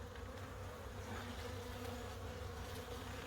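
A dense, steady hum of many honey bees buzzing together around a hive, continuous and fairly close, with no other sounds.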